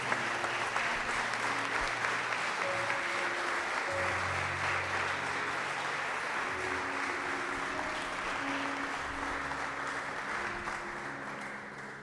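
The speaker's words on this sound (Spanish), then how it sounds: "¿Alguien puede darle un aplauso al Señor fuerte?" A church congregation at a Sunday service claps steadily in praise, dense and sustained for the whole span with a faint hum of voices beneath, easing off slightly at the end.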